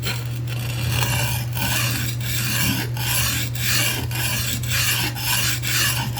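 A kitchen knife being sharpened by hand, its blade rasping across a stone in steady back-and-forth strokes about once every second or so, close and loud over a constant low hum.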